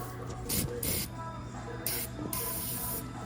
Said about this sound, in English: Spray under that collar.